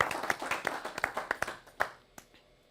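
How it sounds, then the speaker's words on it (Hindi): Scattered audience clapping welcoming a poet at a Republic Day poetry gathering, a sparse run of distinct, sharp individual claps, fairly close, that thins out and stops after about two seconds. "आइए तालियों के साथ हम स्वागत करते हैं डॉक्टर अर्जुन सिसोदिया।"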